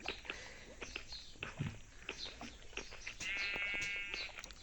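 A sheep in the Minecraft video game gives one short bleat near the end, over busy clicking, footsteps and game noise.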